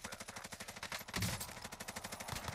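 Rapid automatic gunfire rattles in a video game match, a fast regular burst of shots with a heavier blast near the middle, loud and continuous without talk.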